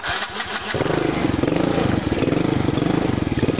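A 110cc ATV engine with trouble starting cranks briefly, then catches and settles into a loud, steady, close idle with a rapid, even pulsing beat.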